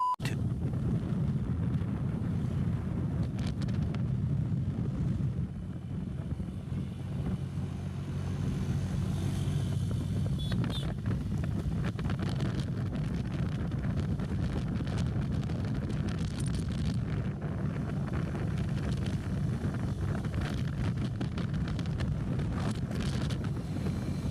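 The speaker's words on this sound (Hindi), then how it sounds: "बाइक को स्टार्ट करते हैं और टेस्ट शुरू करते हैं" A new 2024 Honda 125 motorcycle engine drones steadily, heavily buffeted by wind noise, continuous and unchanging for the whole stretch.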